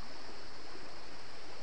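A river in the Philippines flows steadily, a constant broadband rush of water with no breaks, close and fairly loud, with no voices over it.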